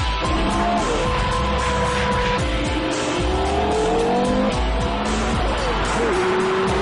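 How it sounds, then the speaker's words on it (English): Porsche Carrera GT with a 5.7-litre race-derived V10 road car, loud continuous engine roar with shifting pitch sweeps and tyre squeal, sustained and close throughout. "Listen to that engine!"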